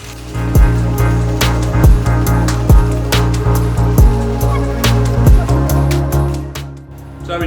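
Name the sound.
shaking a spiced mojito in a cocktail shaker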